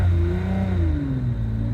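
A Lamborghini Countach pulling away, its engine revving up loud and close, then pitch dipping at a gear change before climbing again, with no talk.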